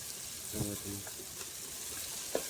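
Fish is added to a simmering gravy in a pan, giving a soft steady sizzle with a few muffled stirring scrapes and a faint bit of nearby voice, fairly quiet throughout.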